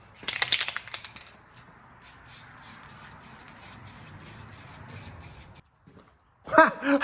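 A short burst of aerosol spray paint hiss opens, followed by a long steady hiss with rhythmic pulses on a welded metal serving tray mount, then a brief pause and a few clattering knocks.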